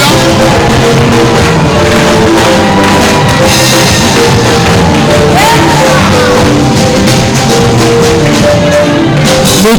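A church congregation at a Sunday praise service shouts and cheers acclamations together, a loud sustained roar of many voices over music, with whoops rising throughout.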